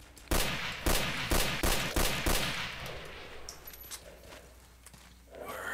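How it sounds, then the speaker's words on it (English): Gunfire in the S.T.A.L.K.E.R. mod Misery, about seven sharp shots in an evenly spaced volley over two seconds, then fainter scattered cracks and ambient noise. "Who else are they fucking shooting at?"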